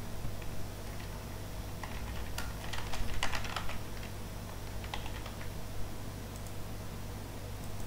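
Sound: typing username and password on computer keyboard

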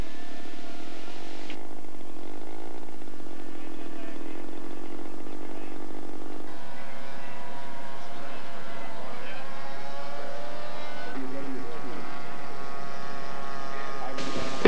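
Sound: scale model aircraft making a level flyby

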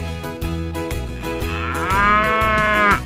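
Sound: ox mooing

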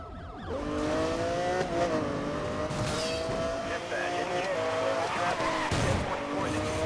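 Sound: Lamborghini racing car in Need for Speed Most Wanted video game

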